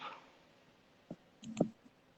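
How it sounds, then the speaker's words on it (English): A few sparse keyboard key clicks, close and faint, tapped out one or two at a time while a message is typed, with a brief cluster of louder taps near the end. "I'm like typing a message at the same time here"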